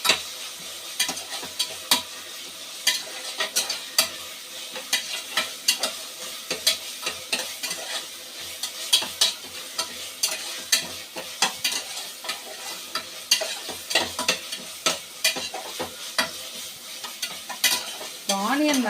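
Onions and green chillies fry in a pan for a prawn dish, with a steady sizzle under repeated scraping spoon strokes that keep an uneven, busy rhythm throughout, close and moderately loud.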